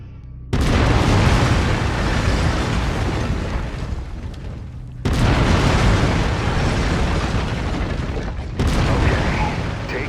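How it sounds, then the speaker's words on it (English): Autocannon on a mech in MechWarrior 5: Mercenaries firing heavy booming rounds, three long roaring blasts that each start abruptly and rumble on loudly. "I've mapped the autocannon to Weapon Group 1. You're free to fire whenever you're ready."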